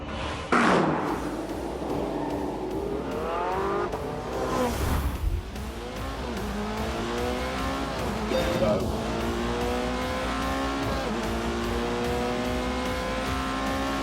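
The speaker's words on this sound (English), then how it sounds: "Soon, the McLaren and the Porsche were ready for some shakedown laps." A McLaren and a Porsche sports car on shakedown laps: engines rev and climb through repeated gear changes, with a tire squeal and a thud early on, heard near and loud while a voice talks over the top.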